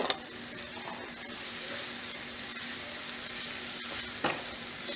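Sugar syrup for a sweet-and-sour raw mango chutney bubbles and sizzles steadily in a pan over low gas, with a couple of brief stirring scrapes and light clinks, close and alone without any talk.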